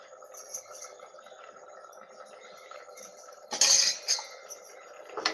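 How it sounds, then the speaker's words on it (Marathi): A pressure cooker lid fitted and closed in a home kitchen while a vegetable dish cooks inside, heard as a sharp metallic clatter and clink near the end, over a steady low background hum. "आता कुकर मी कुकरचं झाकण लावते आणि साधारण एक सिटी घेते"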